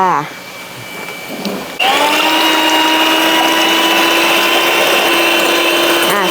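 An electric mixer whipping egg whites for a banana chiffon cake switches on abruptly after a short quieter stretch and then runs as a loud, steady high-pitched motor whine close by.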